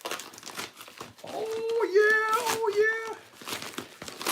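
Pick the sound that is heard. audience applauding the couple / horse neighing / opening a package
opening a package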